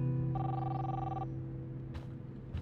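A telephone rings in the video game Life is Strange, a steady electronic ring with strong harmonic tones lasting about a second, set against a low hum and soft background noise, followed by a couple of faint clicks.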